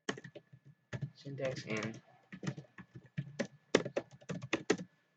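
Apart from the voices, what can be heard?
typing a search on a computer keyboard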